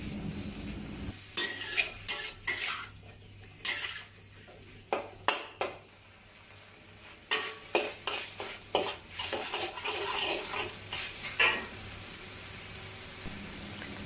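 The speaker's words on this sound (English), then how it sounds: "Stir fry the pork until aromatic and turn slightly brown with medium heat." Ground pork stir-fries in a wok over medium heat with a steady sizzle, while a utensil repeatedly scrapes and clanks against the metal in uneven bursts. No one speaks.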